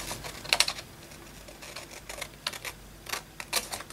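Scissors snip through paper while little diamond shapes are cut out from old craft supplies, producing scattered light crisp clicks and short snips in an irregular rhythm, close to the microphone, with no talking.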